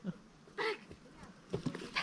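A dog gives a few short yips and whimpers, close and fairly quiet, in separate bursts with pauses between them.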